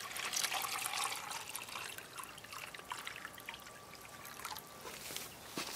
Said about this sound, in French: je vais redonner un petit peu d'eau aussi à la première bouteille